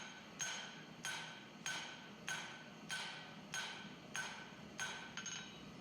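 Light hammer blows on a hot steel bar on an anvil while forging a taper for an S-hook, seven evenly spaced ringing strikes about a second apart, close and clear.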